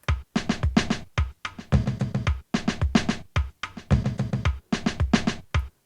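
A Drummer VST Afro Cup 5 drum pattern at 21% complexity, with a few extra notes, loops as steady clusters of kick and hand-percussion hits in repeating bars, close and loud, with no talking.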